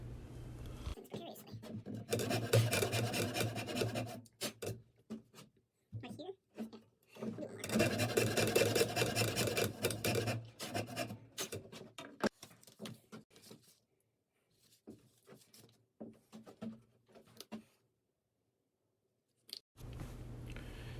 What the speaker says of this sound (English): Here I am sharpening my 1-inch chisel using some 1500 grit sandpaper.